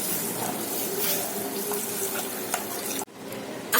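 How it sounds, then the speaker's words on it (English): Water poured into a hot pot of spicy fish curry, a steady hissing, bubbling sizzle close by that cuts off abruptly near the end, with no talk. "I have added 3 cups of water."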